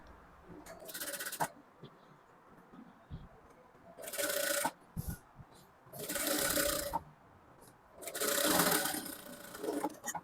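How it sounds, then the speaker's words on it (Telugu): A sewing machine stitches a halter neck blouse in four bursts of fast, close whirring clatter, with quiet pauses and soft handling sounds between them. "ఇక్కడ నుంచి స్టిచ్ వేసుకోవాలి."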